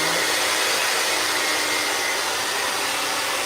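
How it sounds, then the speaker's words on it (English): A blow dryer blasts a steady, loud stream of air onto a freshly spray-painted part to stop a drip from forming, a continuous broadband hiss that holds even for the whole stretch with no talk. "you take that blow dryer and you just put that"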